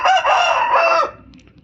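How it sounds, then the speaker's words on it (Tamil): A rooster lets out a single full crow close by, loud and strained for about a second before breaking off into quiet farmyard background, with no talking over it. "பத்தியா கோழி எனக்கு பதில் சொல்லுது."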